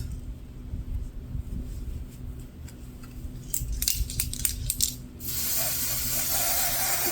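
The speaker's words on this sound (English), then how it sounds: "I'm going to take the tint spray, and I'm just going to spray it on the lace" Tint spray misted onto wig lace in a series of short hissing bursts, close and fairly loud, followed by a steadier wash of broadband hiss.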